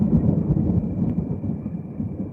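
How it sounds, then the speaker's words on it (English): Deep, heavy rumble of thunder from a lightning strike in a summer storm on the Oregon coast, a loud sustained low roll with no talk over it. "I wonder how far away that lightning strike was."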